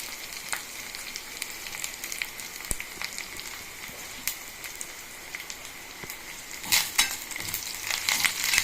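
Mustard seeds, curry leaves and cumin fry in hot oil, a close crackling sizzle with sharp popping spatters throughout that swells louder near the end.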